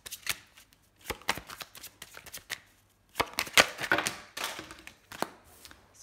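Tarot cards being shuffled by hand in a series of quick riffling bursts with short pauses between, close and fairly crisp, with no talking.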